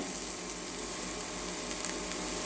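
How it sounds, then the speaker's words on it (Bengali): Mixed vegetable bhaji sizzling in a pan without added water, stirred often as carrots are mixed in; a faint, steady, continuous hiss runs throughout with no distinct stirring strokes. "ভাজিটাতে যেহেতু আমি পানি দিই নি, এটা আমি এখন ঘন ঘন নেড়ে ছেড়ে দিব"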